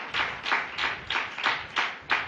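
A church congregation claps in a steady rhythm during a Telugu sermon, about seven loud, evenly spaced beats of many hands together with no voices over them.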